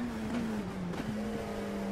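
Race car engine in the iRacing sim, a steady droning hum holding a near-constant pitch with a slight dip and recovery, continuous and fairly loud throughout with no talk.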